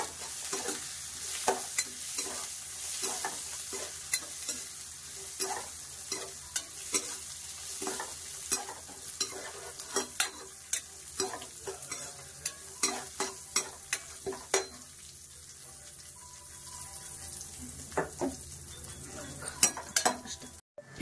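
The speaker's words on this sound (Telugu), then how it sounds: "కిస్మిస్ కొద్దిగా ఫ్రై అవ్వాలండి." Raisins fry in a pan while a spoon stirs and scrapes them in frequent irregular strokes, with a soft sizzle underneath and occasional metallic clinks, near and moderately loud.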